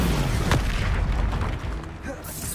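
The Expulso explosion spell in Hogwarts Legacy bursts amid a dense, loud duel soundscape, a heavy boom among ongoing magical effects and rumble.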